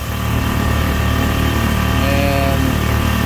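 Nissan 5hp four-stroke kicker outboard motor running steadily on a boat, a constant droning engine hum with a faint rise in pitch midway, loud and close with no talk.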